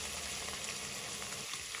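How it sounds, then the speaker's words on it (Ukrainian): Liver sizzles steadily in a hot pan, left unstirred to brown, close and continuous, with no talking. "Підсмажую її хвилин 5, не помішуючи, для того, щоб утворилась рум'яна скоринка"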